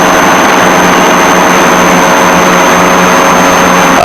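Piper Seneca twin aircraft engines run at full throttle, a loud, steady, unbroken drone with a constant high whine heard from inside the cabin.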